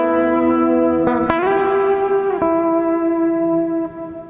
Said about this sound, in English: Let's add a little bit of reverb to start with.